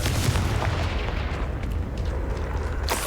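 Confringo fire-blast spell in Hogwarts Legacy, a sustained roaring boom with heavy low rumble that holds steady for about three seconds, then ends in a brief sharp crackle.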